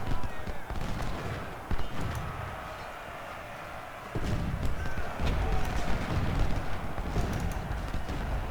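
Gunfire in the Civil War strategy game Ultimate General: Civil War, with scattered musket-like cracks and bursts over rumbling battle ambience while someone talks.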